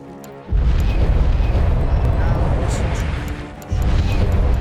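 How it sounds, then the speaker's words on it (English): Explosions in the horror video game Lucius, deep rumbling booms that swell loud and sustained, dip briefly, then surge again, with a voice talking over them. "you're pretty good at like surviving these explosions"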